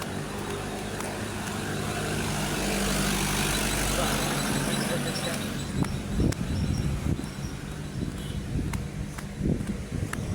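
Street traffic outside a subdivision, with engines idling under a steady rumble that grows, then gives way to sporadic knocks and thumps close by; a bus is part of the traffic.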